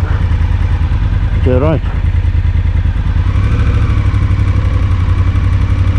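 An Africa Twin motorcycle idles close by with a steady, throbbing, even rumble that runs throughout, while a person briefly speaks over it.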